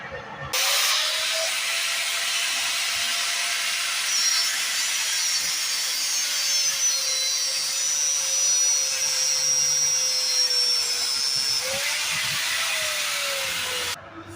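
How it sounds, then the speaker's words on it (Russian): Angle grinder cutting through a steel tower crane cable, a loud continuous whining hiss held steady for over ten seconds with a faint pitch wobble, starting and stopping abruptly with no talk. "Ну и нужна еще болгарка."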